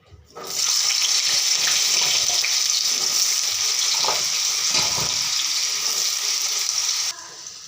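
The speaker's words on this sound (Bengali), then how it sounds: "যে তেলটা দিয়ে দিচ্ছি, তেলটা গরম হয়ে গেছে, তার মাঝে আলুটা দিয়ে দেব।" Potatoes dropped into hot oil in a wok with soybean chunks burst into a loud, continuous close sizzle that holds steady for several seconds before cutting off, with no voices.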